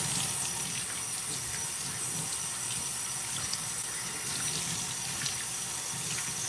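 Steady running water from a tap pours while hair is rinsed at a sink, a constant broadband hiss with no talk over it.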